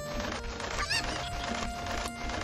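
A rooster in Ocarina of Time Master Quest lets out short honking, squawking clucks over a steady game background hum.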